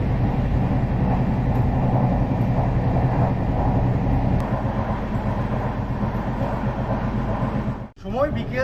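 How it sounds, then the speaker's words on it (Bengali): Howrah–Haridwar Kumbh Express running, a steady loud rumble and rattle of carriages on the rails for most of the stretch, with a brief sharp dip near the end, heard from inside the train. "আমাদের এই কুম্ভ এক্সপ্রেস পৌঁছে গেছে তার এই যাত্রাপথে দ্বিতীয় স্টপেজ চিত্তরঞ্জনে"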